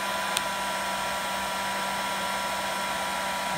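A hair dryer runs on medium heat with the low fan setting, a steady, loud, even whir that holds for the whole stretch, with one faint click near the start and no talk.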